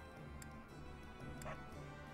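A dog in the Fire Emblem video game gives a few short, soft barks and yips. They sit faintly over a low, steady background bed.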